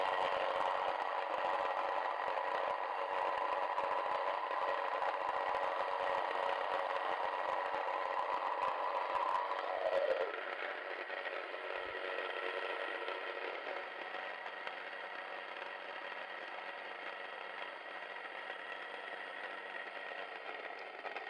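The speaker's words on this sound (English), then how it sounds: "you want to make sure the machine's running before you put in the grain" A Sana electric grain mill runs with a steady whirring hum while grinding grain, the tone shifting and lightening partway through as the grinding eases, close and continuous with no talk.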